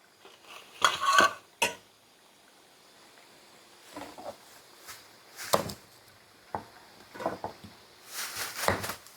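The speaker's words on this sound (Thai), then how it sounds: "เราก็ต้องคน บ่อยๆสักหน่อยหนึ่ง" Pork frying in a pan while a utensil stirs and scrapes it, giving intermittent clinks and scrapes in short bursts with quiet pauses between them.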